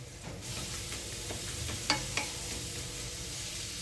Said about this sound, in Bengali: বাদাম আর পেঁয়াজটা ভালো করে তেলে ভেজে নিচ্ছি